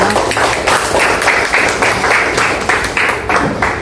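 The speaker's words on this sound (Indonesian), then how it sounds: "Beri tepuk tangan buat teman-teman." Loud group applause from a fourth-grade classroom, many hands clapping in a steady, slightly pulsing rhythm close by, with no talking over it.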